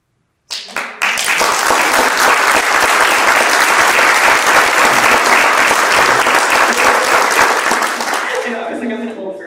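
A sudden, loud burst of clapping from an audience at a talk on Indigenous life in Canada swells quickly and holds strong for several seconds before tapering off.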